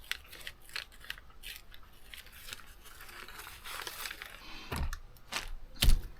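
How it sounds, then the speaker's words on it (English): Scissors cut paper close by, with a string of small crisp snips and rustles, some sharper cracks near the end, quiet and without talk. "And I'm going to cut this out."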